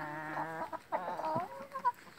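Domestic hens, a flock of about twenty-six, clucking in a series of tonal, throaty calls close by, one bird after another with short gaps, no talk over them.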